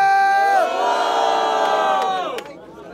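A large crowd at a Brazilian rap battle roars and shouts in unison, loud and sustained for about two seconds before fading out.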